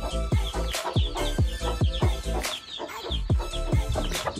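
Chickens cluck in quick, repeated bursts close by, several birds overlapping in an uneven rhythm with a rooster-like call now and then.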